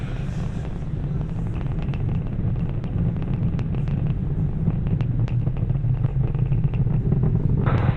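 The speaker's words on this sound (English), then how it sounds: "So now the engines are throttling up." A deep, continuous roar of SpaceX Falcon Heavy rocket engines throttling up after max Q rumbles steadily, broad and powerful, with faint crackles on top and no letup.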